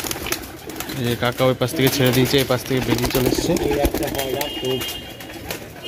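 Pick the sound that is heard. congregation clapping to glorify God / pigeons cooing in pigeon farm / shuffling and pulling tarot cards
pigeons cooing in pigeon farm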